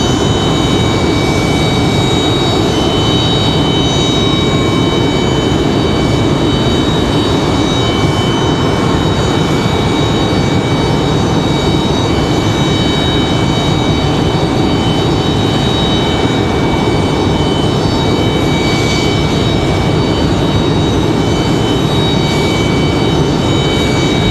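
An Air France jet departs RDU airport, heading back to Charles de Gaulle, with a loud, continuous engine roar and a whining high tone that holds steady and powerful for the whole stretch.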